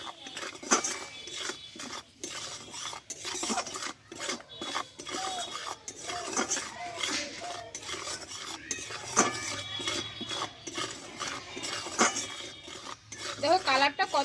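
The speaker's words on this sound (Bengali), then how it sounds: "এবার সবগুলো ভালোভাবে একসঙ্গে নাড়াচাড়া করে নেবো" A peanut mixture with turmeric is stirred in a pan, giving a close, busy series of metal spoon scrapes and clatters against the pan in irregular bursts, with some faint voice in the background.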